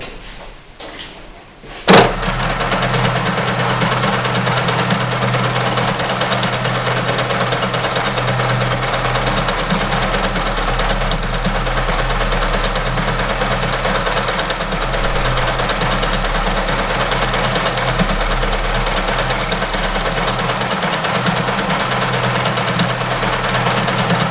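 A milling machine drills a spool at 1000 rpm, starting with a short knock and then giving off a steady, loud mechanical hum and whir that continues unchanged to the end, with no talking.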